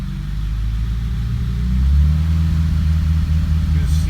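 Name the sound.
1953 Pontiac Chieftain engine running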